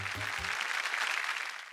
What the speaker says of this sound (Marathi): ओके एकदा जोरदार टाळ्या होऊन जाऊ देत.